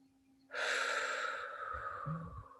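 A single deep inhalation drawn in close and clear, followed by a long, steady exhale that trails off with a faint low rumble near the end; no one speaks over it.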